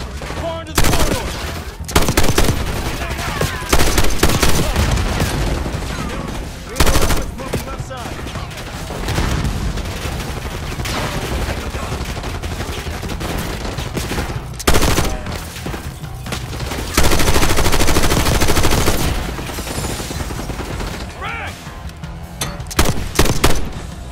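Heavy machine gun fire and sustained fusillades in a Call of Duty: Black Ops 6 campaign firefight, loud and continuous bursts with booms, with shouted voices heard now and then.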